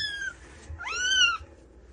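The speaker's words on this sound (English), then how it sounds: "There's a messy little kitty." A cat meows twice, close and fairly quiet: a short first call, then a longer rising one, with no talking.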